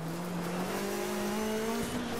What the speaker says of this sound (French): On entend le turbo sur le moteur.